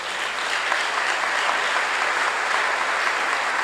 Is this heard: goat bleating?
no